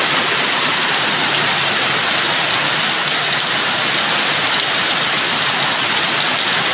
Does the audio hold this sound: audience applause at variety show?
no